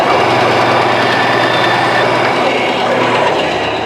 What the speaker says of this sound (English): I'm going to take that back and trim that off that dowel right there